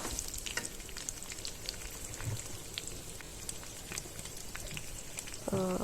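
Thin coconut pieces frying in oil for Telugu coconut chutney, a soft steady crackling sizzle like light rain, fairly faint, with a brief clatter near the end.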